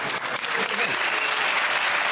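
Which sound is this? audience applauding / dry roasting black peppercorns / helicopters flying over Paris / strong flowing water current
audience applauding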